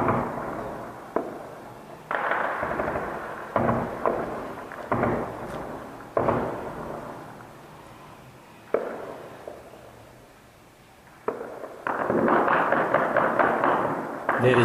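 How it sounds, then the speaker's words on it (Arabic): Artillery shells strike the Rushdiya district of Deir ez-Zor, a string of heavy booms and thuds that come again and again at uneven gaps, each rumbling and then fading, with a denser burst near the end. "ثمانية تسعة 2013 قصف على حي الرشدية"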